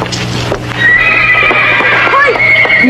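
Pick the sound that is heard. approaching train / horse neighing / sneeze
horse neighing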